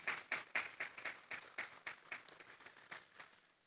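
A church congregation claps in praise during a Spanish-language worship service, the claps coming in distinct rhythmic bursts, fairly loud at first and thinning toward the end, with no talking.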